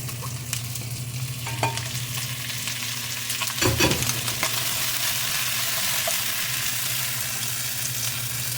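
Hard-boiled chicken feet frying in a pan keep up a loud, steady sizzle, with a heavier clatter of stirring and a splash as they are added midway. Nobody speaks.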